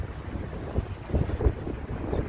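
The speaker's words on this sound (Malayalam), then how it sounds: "ഇവിടെ നല്ല കാറ്റുണ്ട്" Wind buffets the microphone in low, gusty rumbles that rise and fall over a couple of seconds.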